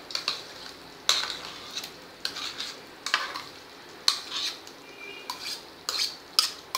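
A spoon stirring pav bhaji vegetables with beetroot and carrot in a metal pot, a series of scraping, clinking strokes in an irregular rhythm with a soft simmer beneath, close and clear.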